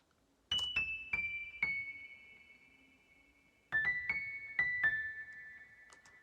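A piano preset from the Expansion VST plays bright, bell-like struck notes in two short phrases, each a few quick attacks that ring out and decay, close and clear with no talk.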